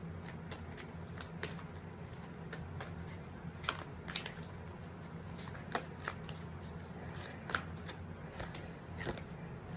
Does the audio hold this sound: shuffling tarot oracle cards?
yes